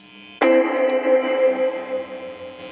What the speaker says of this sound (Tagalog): Kahit mag-off ka ng ng pedal, no, sa reverb, andun yung tunog, may naiiwan na tunog na which is yung reverb.